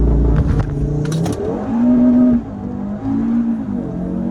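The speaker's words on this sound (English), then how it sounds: "you put the throttle down all the way while keeping the brake on. Yeah. And then you just let go of the brake." A 2018 Stage 3 tuned Audi RS3 saloon launches hard from a standstill. Its engine roars loud and close, then the pitch climbs steadily through the gears as the car accelerates without a break.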